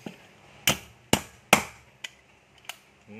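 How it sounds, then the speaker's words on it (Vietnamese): Three hard, close hammer blows land on an ST18 concrete nail driver tool, followed by two lighter taps, each a crisp metallic crack with quiet gaps between. "Đóng là cái đinh nó sẽ vô sát hết luôn."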